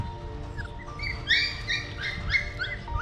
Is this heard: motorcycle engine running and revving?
no